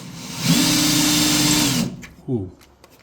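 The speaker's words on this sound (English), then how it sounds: "that's a very dull drill bit" A power drill with a dull bit whirs loudly and steadily for over a second, then stops, followed by a short low rumble and faint clicks.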